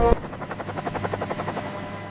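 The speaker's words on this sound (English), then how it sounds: "Today, a Coast Guard helicopter reaches a distress location faster than any rescue ship." Coast Guard helicopter passing with a rapid, steady rotor chop that pulses evenly throughout, moderately loud and alone without voices.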